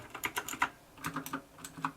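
Kailh Blue clicky mechanical switches on a Ravcore Edge keyboard are typed on up close, sharp distinct clicks in two quick bursts of keystrokes separated by a short pause, with no talk.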